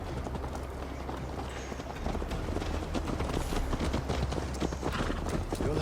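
Horse hooves gallop in Assassin's Creed Valhalla with a steady, close clip-clop that grows slightly louder partway through, set against a low rumbling background.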